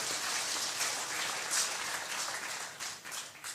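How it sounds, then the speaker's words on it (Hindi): An audience at a religious gathering at Shri Pandokhar Dham breaks into sustained applause, a dense, even rattle of many hands clapping at moderate distance with no voices over it. "ताली बजा दीजिए।"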